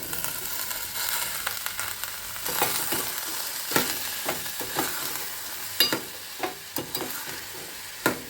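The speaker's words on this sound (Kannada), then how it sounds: "ನಾನು ಒಂದು 2-3 ನಿಮಿಷ ಬಟಾಣಿನ ಹುರಿದೆ." Fresh green peas and onions sizzle steadily in a pan while a spoon stirs and scrapes, producing intermittent sharp metallic knocks over the constant frying hiss.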